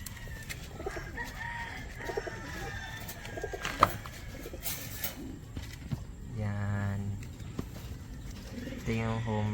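Homing pigeon crossed with a racing pigeon cooing in soft repeated bursts near the end, amid other bird calls and background noise, with someone talking.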